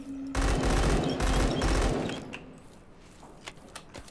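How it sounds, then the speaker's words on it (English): Bursts of automatic gunfire in the survival shooter Zero Sievert, loud dense volleys for about two seconds, then fading to scattered distant shots. "Already hearing sounds of gunfire"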